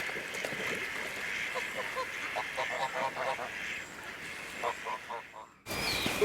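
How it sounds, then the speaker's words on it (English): Geese on the Raystede sanctuary lake, a mix of wild Canada, greylag and bar-headed geese with domestic Embden geese, give a run of repeated honks and calls over steady outdoor background noise, ending with a sudden louder burst. "We have several types of geese that live up here."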